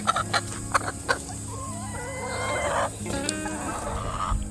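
Several hens cluck and murmur close by inside a 50-foot chicken run on a farm, with soft repeated calls and a few sharper clucks.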